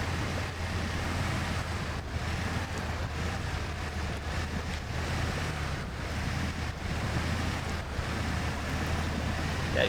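An all-wheel-drive vehicle pushes through water on an Arizona off-road trail, a steady rushing wash of churning water and engine rumble with gusty wind noise, continuous and close, no talk.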